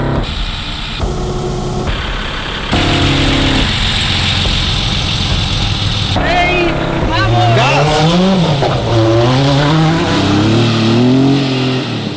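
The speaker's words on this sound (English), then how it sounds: "And then came the first kilometers of racing for the 146 cars and trucks." Rally cars and trucks race at night on the Dakar 2022 route, their loud, close engines idling and then revving hard in rising and falling sweeps, with a person speaking over the noise.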